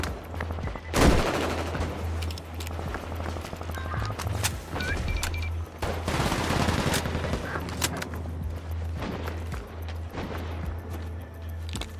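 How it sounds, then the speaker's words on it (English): Sustained gunfire in the Combat Champions video game: rapid bursts of automatic fire, close and loud, over a steady low engine-like hum, with occasional sharper single shots. "I'm seeing some fine shooting"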